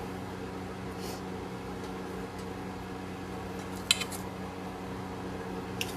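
A metal spoon scrapes spinach artichoke filling off pasta shells, giving a few faint, scattered clinks and light scrapes over a quiet, steady kitchen background hum.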